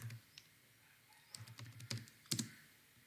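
A computer keyboard clicks through short, irregular runs of keystrokes while code is typed, quiet and close, growing denser toward the end with a couple of sharper taps.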